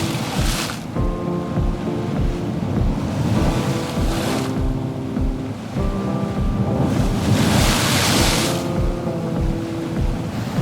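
Ocean waves roll and crash in repeated surges over a constant low engine-like rumble and gusty wind noise, loud and continuous.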